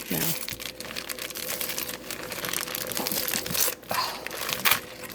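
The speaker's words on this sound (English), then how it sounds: "I'll just rip the bag." A plastic bag is crinkled and torn open by hand while cooking a crockpot cabbage roll stew, with dense, continuous crackling and rustling close up and a few sharper tearing bursts.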